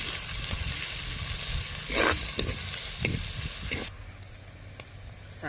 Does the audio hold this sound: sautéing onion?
yes